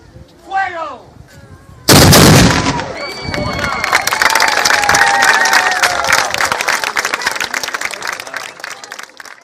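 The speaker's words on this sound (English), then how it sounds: "that explosion that kicked off this episode was cannon fire from the Castillo de San Marcos, a large Spanish fortress" A cannon fires from the Castillo de San Marcos, a large Spanish fortress in St. Augustine, a sudden loud boom after a brief shouted command, followed by a long rumbling echo mixed with crowd cheering and applause.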